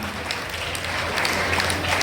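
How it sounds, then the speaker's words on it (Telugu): An audience at a school teachers' retirement felicitation claps to welcome a headmaster to the stage, a short, dense burst of applause that swells slightly toward the end. "ఏమైనా చప్పట్లు కొట్టరా?"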